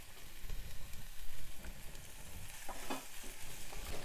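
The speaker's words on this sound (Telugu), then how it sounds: "చక్కగా కలుపుతూ వేగనివ్వాలి." Finely chopped spinach fries in a pan, a soft steady sizzle with scraping and clattering as it is stirred, close and fairly quiet, no talk.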